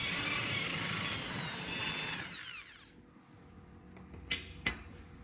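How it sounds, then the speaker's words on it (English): Power drill boring through a walnut handle scale for a knife tang, a steady high whine that winds down after about two seconds, followed by a couple of short sharp knocks. "Walnut scales, 10cm x 3cm x 1cm. Drill for the tang, rough shape with the grinder."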